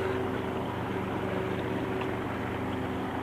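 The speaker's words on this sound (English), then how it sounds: "I'm really happy how this motor runs. Idle smooth." An outboard boat motor idles steadily with a smooth, even hum, close and continuous with no voices.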